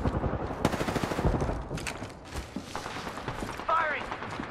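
Rapid gunfire in an Apex Legends battle royale match, bursts of close automatic shots and louder single cracks, with a voice speaking over the fighting and mechanical clicks.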